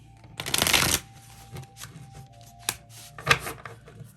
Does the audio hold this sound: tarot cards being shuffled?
yes